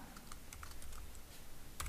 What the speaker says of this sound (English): Now if I start typing